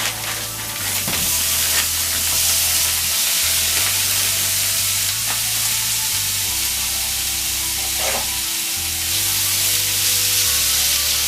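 Steady hiss and sizzle of small frozen meat pieces frying in a hot pan, close and continuous, with a low hum underneath and no talking.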